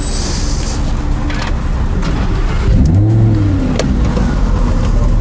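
A Lamborghini engine revs while driving, a loud close roar that rises and swells in pitch midway before settling back to a steady drone.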